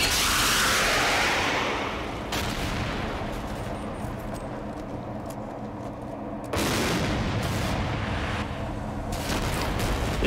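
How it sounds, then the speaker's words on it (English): Javelin missile volleys in the CMSF 2 video game roar as loud sustained blasts and rumbling booms, one after another with a few seconds between, each trailing a heavy wash of noise. "I let loose the first volleys of the javelins"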